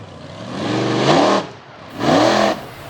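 A 540 cubic inch Chevrolet Silverado monster truck with a Mike Harper chassis revs its engine at an arena show, two loud rising bursts separated by a brief dip, close and unaccompanied by talk.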